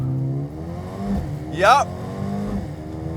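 A 2021 Mercedes-AMG A35 hot hatch launches under launch control with traction off, its engine note climbing in a sharp rising rev before settling. One short spoken word is heard over the engine.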